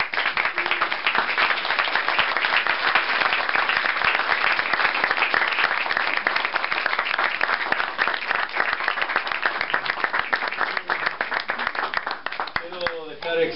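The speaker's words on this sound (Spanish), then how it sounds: "para ustedes el aplauso" Sustained audience applause at a community gathering, steady and dense clapping from many hands that runs for over thirteen seconds at an even loudness and tapers slightly at the end.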